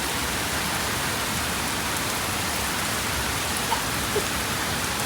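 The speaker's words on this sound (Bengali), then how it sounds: "বিশাল জোরে বৃষ্টি হচ্ছে দেখুন" Heavy rain pours down steadily during a storm with a tornado warning, a dense, constant hiss of drops with no breaks and no voices.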